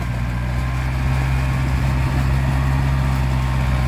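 A Yanmar walking tractor engine works through a muddy, boggy rice field, its steady low idling chug droning continuously and fairly loud throughout, with no speech.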